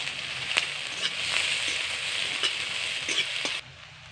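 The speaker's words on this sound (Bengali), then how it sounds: "রসুন লঙ্কা দিয়ে দিচ্ছি একসাথেই, কারি পাতাগুলো দিয়ে দিচ্ছি, ভালো করে ভেজে নেব" Garlic, chilli and curry leaves frying in oil for a Bengali kundru stir-fry, giving a steady close hiss with a few sharp spatters and stirring clicks before it cuts off near the end.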